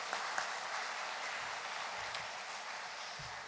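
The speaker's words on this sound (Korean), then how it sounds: "우리 사랑과 또 격려의 박수 한번 하십시다" Steady applause from a church congregation, a dense wash of clapping that holds evenly throughout without voices.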